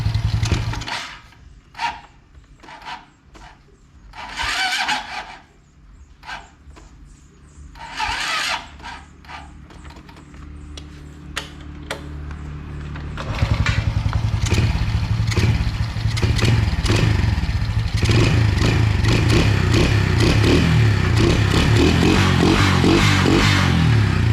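After tuning, a Honda Wave 125 motorcycle engine first idles and blips unevenly in short bursts, then holds a loud sustained rev close by for the final stretch, with no speech.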